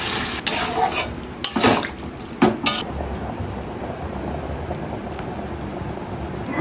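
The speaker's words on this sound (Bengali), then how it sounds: "জল দেওয়ার পরও আরো একটু কড়ার মধ্যে নাড়াচাড়া করে নেব।" Chickpea curry with paneer being stirred in a kadai after water is added, with metal spoon scrapes and clanks against the pan over a low bubbling simmer; no one speaks.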